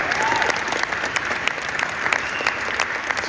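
Audience applause in a hall at a leadership conference in Las Vegas, a sustained, dense roll of many hands clapping that stays steady and fairly loud throughout.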